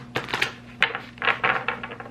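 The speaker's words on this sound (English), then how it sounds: "These cards are so tough, so worn out. They're so tough to shuffle." Worn, stiff tarot cards being shuffled close up, with several bursts of papery riffling and flicking separated by brief pauses, over a faint steady hum.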